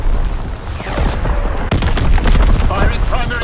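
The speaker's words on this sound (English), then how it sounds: "Firing primary battery" Artillery barrage in Call of Duty WWII, a rapid cluster of loud booming blasts and crackling shots layered over dense battlefield noise, with radio-style voices talking over it.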